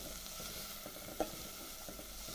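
Vegetables with red chili powder, turmeric and salt cooking in a pan for noodles give off a soft, even sizzle with one small knock partway through.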